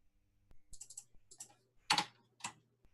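Keys clatter on a computer keyboard as a Stata command is typed, a few quick bursts of close, crisp clicks with short pauses, the last strokes a bit louder, in a quiet room.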